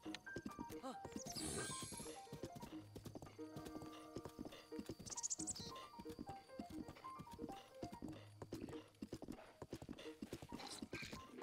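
Rhythmic clip-clop of horse hooves in Breath of the Wild, galloping steadily throughout with a brief whinny, set over bright game music and ambient effects.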